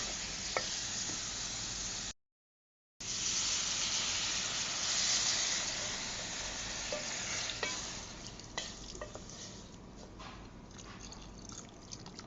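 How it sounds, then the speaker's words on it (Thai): Fish meat dry-roasting in a pan for a Thai Isan curry of catfish with pickled bamboo shoots, stirred with steady scraping and crackling sizzle, close and continuous apart from a one-second gap, with no talking. "ก็จะคั่วเนื้อปลาให้สุกก่อนนะคะ"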